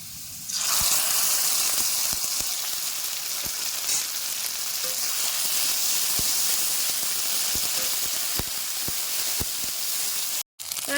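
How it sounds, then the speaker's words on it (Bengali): Onions frying in hot oil in a pan for a village-style fish curry with spices, a loud steady sizzle and hiss with scattered crackles and pops running throughout, alone with no talk. "পেঁয়াজ কিন্তু পুরো লাল করে ভাজে নিচ্ছি দেখেন"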